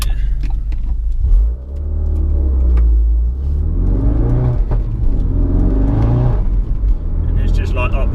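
Ford Focus RS with a Mountune M400R upgrade accelerating hard in fourth gear, a loud, deep engine roar and rumble rising steadily from inside the cabin while someone talks over it throughout.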